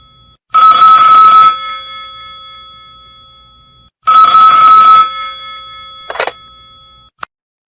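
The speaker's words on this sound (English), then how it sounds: "At that moment the telephone rang." A telephone bell rings in two long, loud bursts with a pause between, followed by a short clatter and a faint click as the call is picked up; no one speaks.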